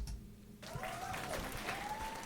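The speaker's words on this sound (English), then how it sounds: "The crowd claps" Audience applause for a pianist about to perform original compositions at a show night, a steady wash of clapping from a crowd that swells after a brief quieter start and continues throughout.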